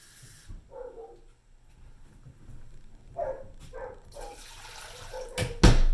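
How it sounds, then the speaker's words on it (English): Water runs into a pan from a tap in a home kitchen. Faint dog barks come in between, and a louder splash sounds near the end. "we're going to fill this pan with 4 cups of water"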